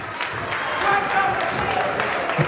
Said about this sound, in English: Y'all give Zenith a round of applause.